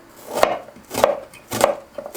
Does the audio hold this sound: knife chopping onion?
yes